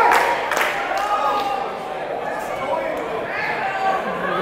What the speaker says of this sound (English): Kellum and the crowd getting behind Carpenter.